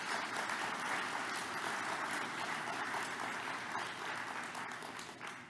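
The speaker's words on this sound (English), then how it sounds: "please stand and let's give him a round of applause from across the world" A large conference audience gives a sustained round of applause during a scientific society's presidential address, with dense, steady clapping that holds at full strength and fades slightly near the end.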